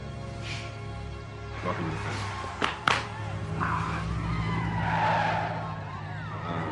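A car in a comedy film brakes hard and skids with a long, loud tire squeal, after some thuds and engine noise, with faint voices in the background.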